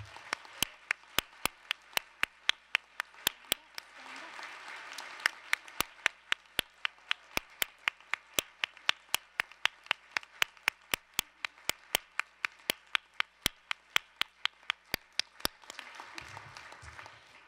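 A crowd at a United Nations International Women's Day event applauds staff and volunteers, a soft bed of clapping under a loud, steady rhythmic clap repeating about three times a second close by.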